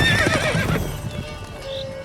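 A horse in The Witcher 3 lets out a loud, close neigh with hoof clip-clop beneath it, then the whinny fades into quieter ambience.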